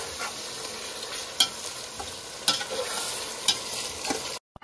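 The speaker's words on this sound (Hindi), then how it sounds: "और अब हम चिकन को भी अच्छे से फ्राई करेंगे।" Chicken pieces frying in a pan for chicken biryani, a steady broad sizzle with a few sharp stirring clatters at regular intervals, close and fairly loud, then cutting off abruptly at the end.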